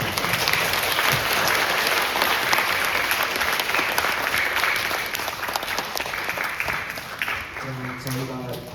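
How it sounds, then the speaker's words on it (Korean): Audience applause fills a Seoul National University astronomy department public lecture hall after the Q&A, a dense, steady clapping that holds for several seconds and thins slightly near the end as a voice begins. "답변 열심히 해주신 정재영 연구원님께 다시 한번 박수 부탁드립니다"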